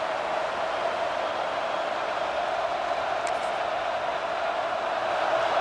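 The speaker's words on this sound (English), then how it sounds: "Listen to this crowd just shaking the girders of this place, trying to help their defense." Stadium crowd roaring in EA Sports College Football 26, a steady dense wash of crowd noise filling the whole stretch with no breaks.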